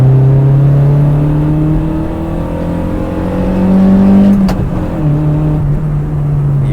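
Engine of a manual 1987 Toyota Corolla AE90 restomod revs loud and close from inside the car, pitch climbing then dropping with a sharp blip at a downshift before settling back to a steady drone.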